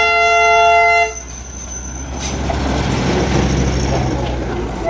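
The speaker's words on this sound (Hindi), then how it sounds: "वो देखो गाइस, दार्जिलिंग ट्रेन।" The Darjeeling Himalayan toy train sounds a loud, sustained horn blast up close, then the rolling rumble and clatter of its passing cars carries on steadily.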